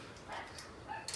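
A dog in a kennel at a K9 yard gives a few quiet yips and whimpering barks over about a second, faint and fairly close, with no talk.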